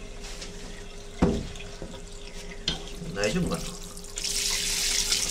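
Running shower water while a razor is rinsed in a bathroom, a close hiss of flowing water with sharp splashes and clatters, building to a steady louder spray at the end, while someone speaks briefly in Japanese.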